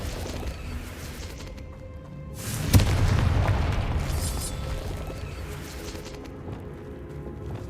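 A Confringo blast spell in Hogwarts Legacy goes off as one loud, deep boom with a sharp crack at its onset, followed by a rumbling tail that slowly fades away.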